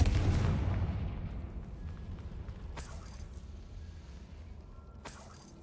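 A Confringo spell explosion in the video game Hogwarts Legacy, a deep booming blast at the start that fades into a long, decaying rumble, followed by a couple of faint sharp clicks.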